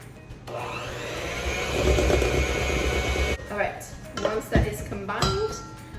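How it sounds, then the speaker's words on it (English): An electric mixer whirs steadily through cream cheese and powdered sugar icing for about three seconds, then stops; clinks and knocks of bowl and utensils follow, and a person talks. "I'm just going to use my mixer to mix this all together"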